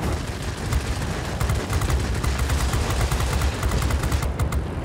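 Aircraft machine guns and cannons fire in World of Warplanes over a dense engine roar, with rapid bursts of sharp cracks continuing throughout.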